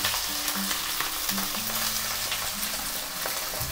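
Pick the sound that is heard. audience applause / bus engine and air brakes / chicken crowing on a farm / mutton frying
mutton frying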